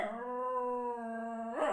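A small furry dog gives a sustained, tonal whining cry lasting over a second, then breaks into a short rising yelp, close and alone.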